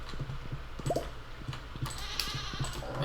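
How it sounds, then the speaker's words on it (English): A goat bleats in the farming game Stardew Valley, a short wavering cry amid steady background game music and repeated soft ticks. "Hay up the cow and the goat."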